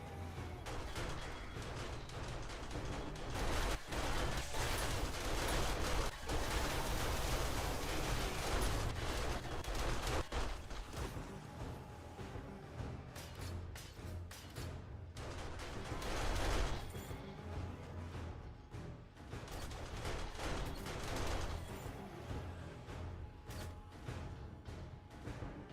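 Automated turrets in the survival game 7 Days to Die fire in rapid, dense bursts, a loud continuous barrage of gunfire that thins out into scattered shots toward the end.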